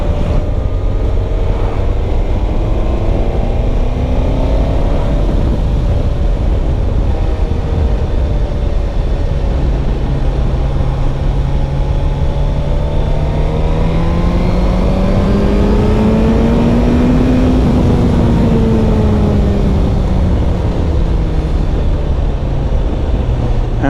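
A used Suzuki GSX-S GT motorcycle engine revs up and down, its pitch rising and falling over a steady hum with strong wind rush, and no voices.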